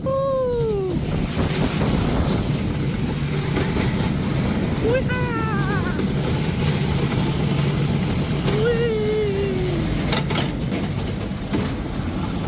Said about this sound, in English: Getting on the Silver Spur coaster.